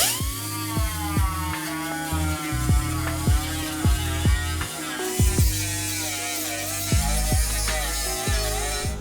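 A new 8-gallon air compressor runs steadily with a low motor hum and rattle, while sharp repeated hisses and bursts from an air tool cut in every second or so over the constant drone, nearby in a shop.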